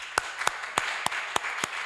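Slow scattered clapping for Rosita at a club's senior presentation evening, about six distinct claps spaced evenly and fairly close, with no voices over them.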